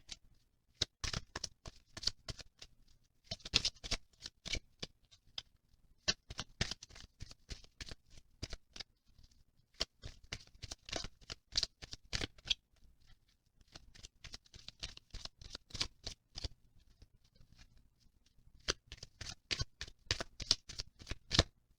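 Romance Angel oracle cards being shuffled by hand, close and crisp, in repeated riffling bursts separated by short pauses, with no speech over it.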